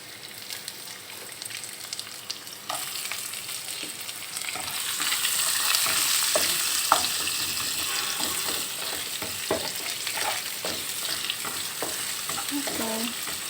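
Garlic and onion fry in a hot pan for an Assam fish dish. The sizzle starts moderate and grows louder partway through, with scattered spatula scrapes and taps close by.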